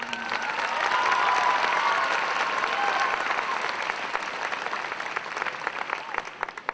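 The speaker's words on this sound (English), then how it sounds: "may we please give a quick applause to all the parents and people that are here" A graduation ceremony audience applauds steadily, a dense wash of clapping that swells early and gradually thins into scattered claps by the end.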